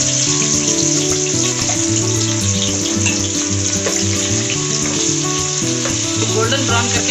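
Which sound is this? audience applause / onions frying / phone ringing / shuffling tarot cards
onions frying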